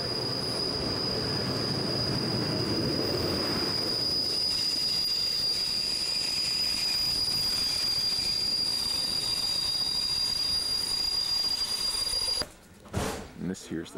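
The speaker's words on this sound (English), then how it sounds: "here's my local jobby coming in. This is one of these whistle-stop trains." A local whistle-stop train in Slovakia's High Tatras near Poprad Tatry rolls in with rumbling wheels and a long, sustained high squeal, ending abruptly in a few sharp knocks.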